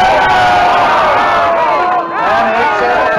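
Wrestling crowd at a live match cheering and shouting continuously, loud and dense throughout with a brief dip near the middle before the roar resumes.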